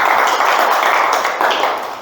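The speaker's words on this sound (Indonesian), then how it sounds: "Tepuk tangan dulu boleh untuk apresiasi diri sendiri." Group of young pupils clapping in a classroom: dense, continuous applause from many hands, loud and close, tapering slightly at the end.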